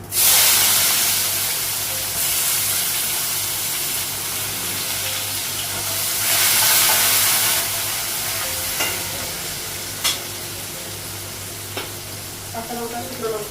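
Panch phoron spices and potatoes hit hot oil with a loud burst of sizzling that settles into a steady hiss, with brief stirring clinks near the end.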